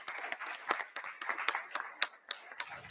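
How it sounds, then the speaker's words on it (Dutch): Scattered clapping from a symposium audience, a modest run of separate claps with uneven rhythm at moderate distance, fairly thin rather than a full ovation. "Graag een applaus."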